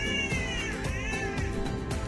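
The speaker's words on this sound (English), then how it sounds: "they have birds here that sound like howling cats" A rainforest bird gives a drawn-out, wavering call much like a howling cat, rising and bending in pitch over about two seconds, clear and fairly close with no voices.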